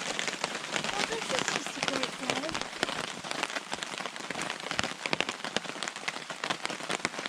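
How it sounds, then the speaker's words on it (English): Steady rain patters on a forest campsite in the Boundary Waters, a dense, continuous hiss of drops on tarp and ground with scattered sharper taps close by, no voices. "And here we go with the rain."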